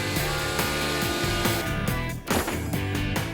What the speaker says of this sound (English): With some heavy-duty chainsaw action, it's not long before she goes topless.